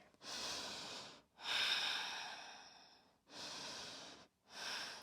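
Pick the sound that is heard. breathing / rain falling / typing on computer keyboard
breathing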